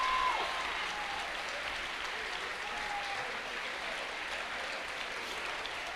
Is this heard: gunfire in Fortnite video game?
no